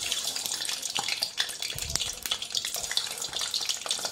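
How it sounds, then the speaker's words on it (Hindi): Eggs fry in hot oil for egg chilli, a dense, steady crackling sizzle heard up close with a few small pops and spatters. "पहले हम इनको फ्राई कर लेंगे गर्म तेल में"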